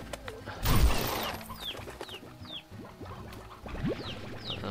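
Chickens in the video game Slime Rancher give short, chirpy clucks that repeat at intervals, with a brief crashing thump near the start and steady game background sound.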